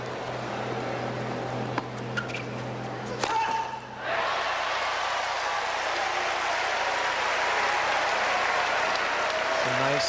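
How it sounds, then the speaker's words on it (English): A New York crowd at a 2003 US Open tennis match cheers and applauds loudly and continuously. A sharp crack and a brief dip come first, then the broad roar swells and holds to the end. "Nice loud New York cheer for an unforced error."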